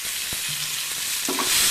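Garlic and onion with mustard seeds fry loudly in hot oil in a pan, a dense steady sizzle close up with a couple of faint knocks, no voices.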